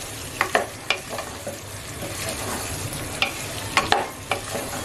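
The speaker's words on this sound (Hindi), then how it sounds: "अब इसमें मैं आलू और गवार की फलियों को डाल दूंगी। इस सब्जी को हम 1 मिनट तक अच्छे से भूनेंगे।" Potatoes and guar beans fry in a pan while being stirred, a low steady sizzle with several sharp spatula scrapes and taps clustered at the start and again near the end, close, with no speech.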